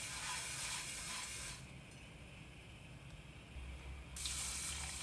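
Water poured for Moroccan couscous runs in a steady faint stream, stops for a moment, then flows again, with a low clatter partway through.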